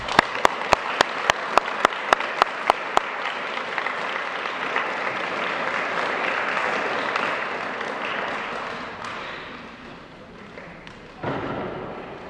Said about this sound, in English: let's give yourselves a round of applause, young men